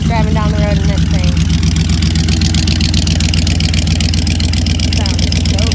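A 1946 Chevrolet Coupe idles with a loud, steady low rumble that holds an even pulse throughout. A brief voice is heard near the start.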